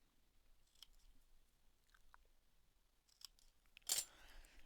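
Scissors snip through paper while angled tabs are cut for a mini bird folio craft: faint, sparse cuts in a quiet room, ending in one sharper, louder snip near the end.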